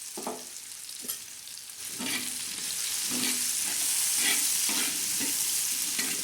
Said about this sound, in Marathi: असं चांगलं लालसर होऊन जायचा खरपूस असा लालसर भाजायचा